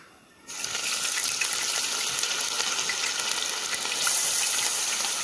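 Crushed ginger drops into hot coconut oil with crackled fenugreek in a heavy uruli pan, and a sudden loud, steady gush of frying sizzle starts after a brief quiet moment. The sizzle holds evenly and swells slightly near the end.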